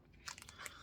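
Close, quiet crunching bites and chewing while eating jjageuli, a Korean stew, in a one-person mukbang: a few crisp crackly bursts in quick succession.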